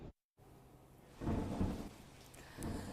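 Heavy rain pours during a storm in Jamnagar, a dense steady hiss that swells louder in surges after a brief dropout near the start.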